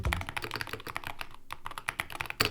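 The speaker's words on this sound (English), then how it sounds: "I then have this Keychron keyboard" Fingers type rapidly on a Keychron keyboard, a close, continuous run of crisp key clicks with one brief pause midway and no voices.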